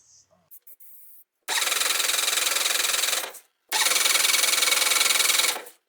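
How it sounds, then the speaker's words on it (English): A Jeep CJ-5 engine, parked in a barn for 45 years, cranks over in two long starter bursts of about two seconds each with a short pause between. The grinding whir is loud and steady and never catches, after a few faint clicks. "And we're going to try to crank this thing again."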